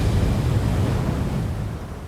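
Giant ocean waves break at Nazaré, producing a heavy, continuous low roar of surf with wind rumble that slowly eases toward the end.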